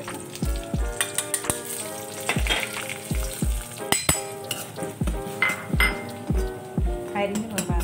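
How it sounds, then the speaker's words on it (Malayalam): Mustard seeds, curry leaves and spice powders fry in hot oil in a pan, with a close sizzle and crackle under rhythmic metallic clinks of a utensil against the pan, alongside a music track. "കടുക് പൊട്ടിക്കഴിഞ്ഞ് ഇനി കറിവേപ്പിലയും മറ്റന്നുമുള്ള ചേർത്ത് കൊടുക്കുന്നുണ്ട്"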